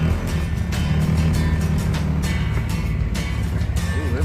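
Honda Prelude fitted with an F20B transmission rolling in second gear, a steady close engine drone with road and mechanical noise throughout and a few brief louder knocks.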